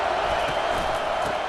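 Steady wash of stadium crowd noise in the College Football 25 video game, a sustained roar from a packed home crowd during an Alabama vs Florida game, continuous and dense with no clear peaks.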